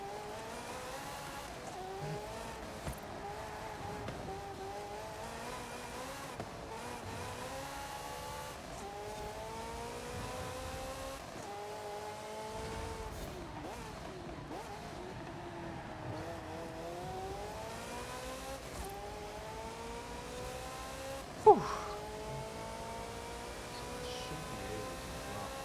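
Race cars lapping a circuit in the video game Forza, with Ferrari cars among them: engine whines rising and falling through gear changes, steady and moderately loud, with one brief sharp thump near the end.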